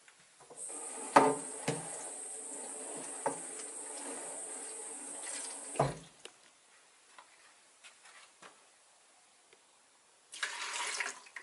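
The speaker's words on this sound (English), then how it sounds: "Empties and rinses bedpan and pours rinse into toilet." A bedpan being rinsed and the rinse water poured into a toilet in a care setting: running water and splashing for several seconds with clunks of the pan, then a pause and a final burst of pouring.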